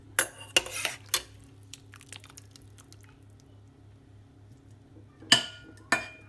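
A slotted spoon clinks and scrapes in a slow cooker while scooping chicken out of watery stock. Loud metallic knocks come in short clusters at the start and end, with quieter soft squishy sounds between.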